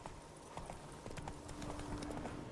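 Roach the horse trots in The Witcher 3, a brief run of soft, quick hoof clip-clops over a faint background bed, heard alone without talk.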